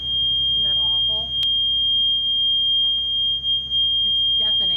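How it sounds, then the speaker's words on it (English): Loud, piercing steady beep from the ignition of a sailboat's dead wing engine, a continuous high tone running throughout with engine-room clatter and brief voices beneath it. "It's got a really loud beep."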